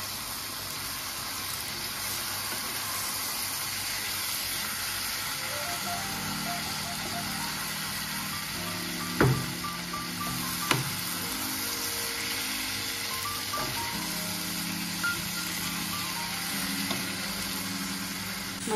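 Spice paste with a pinch of ground nutmeg sizzles steadily in a pan, a soft, constant frying hiss broken by a couple of sharp utensil clinks against the pan.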